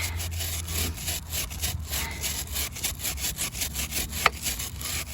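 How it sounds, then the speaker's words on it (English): A brush scrubs a kerosene-soaked chain on a 1995 Honda Shadow VLX 600 motorcycle in steady, rasping back-and-forth strokes, close and fairly loud, with one brief sharp click near the end. "Now we're gonna go around the whole thing, just like this. Give it a good scrub it up."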